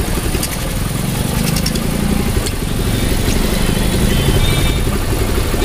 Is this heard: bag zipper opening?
no